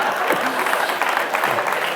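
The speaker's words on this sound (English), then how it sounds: "One more round of applause also for Bijoy, who has been wonderful" Audience applause at a live conversation event, a dense, steady wash of clapping that stays loud and even across the whole stretch, with no talk over it.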